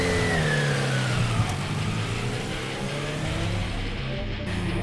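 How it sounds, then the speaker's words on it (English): A 2015 Honda CBR1000RR motorcycle engine screaming at high revs on the Symmons Plains track, with pitch sweeping through gear changes, loud and continuous, blended with rushing wind noise. "I'm just having a nice little ride out on this CBR1000 RR"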